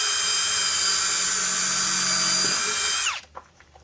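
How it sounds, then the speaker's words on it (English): A power drill bores a pilot hole in wood for a table shelf, with a loud, steady high-pitched whine held for about three seconds before the motor spins down and stops, followed by a few light clicks. "I better come back about halfway, pre-drill in the center."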